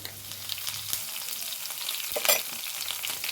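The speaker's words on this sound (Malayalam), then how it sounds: "കുറച്ച് വെളുത്തുള്ളി ഇട്ട് കൊടുക്കാം" Garlic tipped into a hot pan of oil for a yogurt and green chilli curry, giving a steady close sizzle with light stirring scrapes and a brief louder crackle burst, no voices.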